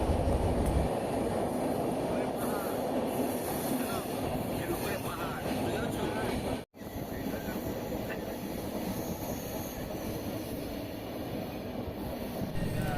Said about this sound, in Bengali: এটা হলো একটা টানেল, তার মধ্য দিয়ে আমাদের ট্রেনটা যাচ্ছে